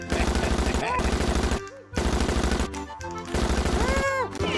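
Rapid bursts of gunfire from the shooting gallery video game Chicken Shoot, loud and close, in long rattling strings broken by short gaps and with electronic game tones sweeping over the shots.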